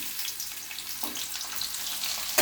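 Chopped onion and green chilli frying in hot soybean oil, a dense close sizzle and hiss running steadily, with a brief louder burst at the end.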